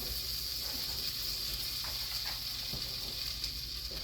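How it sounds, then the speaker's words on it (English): Butter sizzling in a hot pan before a pot roast goes in, a steady soft hiss running throughout at low level with no talk. "And so I got me some butter and put it down in my pan."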